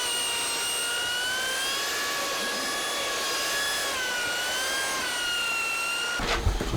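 Power mixer whirring steadily while mixing tile setting compound (Tile Redi) on a San Diego tile job, a sustained motor whine with shifting pitch that ends in a few rough knocks and scrapes.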